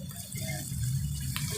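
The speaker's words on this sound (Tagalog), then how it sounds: "maglagay ka ng konting tubig" A little water poured into a pan of ground pork and potatoes, a soft splashing trickle heard close and fairly quiet over a low kitchen hum.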